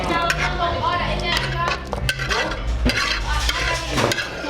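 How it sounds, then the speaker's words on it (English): Seafood is stirred into Jamaican stew peas cooked in coconut milk, with repeated spoon scrapes and knocks against the pot over a low simmering sizzle, while people talk throughout in the background. "add that seafood into the stew peas, and just give it a light stir"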